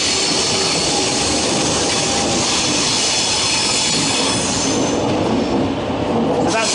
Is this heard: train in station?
yes